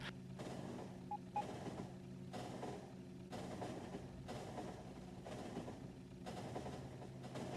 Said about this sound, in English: there's copper trains that just ninjaed through